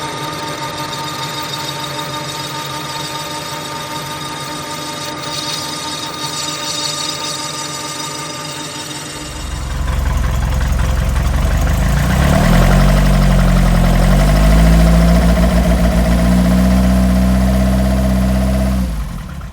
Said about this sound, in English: Thought I'd start with a little video of the cold start of the 1040,